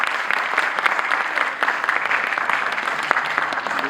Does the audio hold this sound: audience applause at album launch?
yes